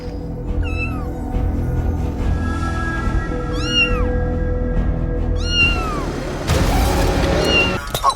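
A cat in the middle of a road meows repeatedly, several distinct rising-and-falling cries spaced a couple of seconds apart over a steady low rumble of traffic and background noise, ending in a brief harsh burst.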